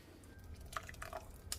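Tomato soup pours into a thermos in a kitchen, heard as a few soft drips and liquid splashes with brief trickling, faint against a quiet background.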